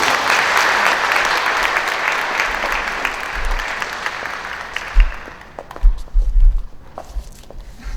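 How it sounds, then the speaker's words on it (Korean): Congregation applauding as a young woman is introduced to speak at a church Holy Spirit seminar; loud, dense clapping fills the room, then fades out and leaves scattered footsteps and knocks. "사랑의 박수 부탁드리겠습니다."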